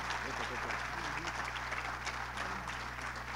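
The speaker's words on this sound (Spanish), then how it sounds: "por favor, con un fuerte aplauso" At a business chamber awards ceremony, an audience applauds steadily over a strong low hum, with crowd murmur and voices mixed into the clapping throughout.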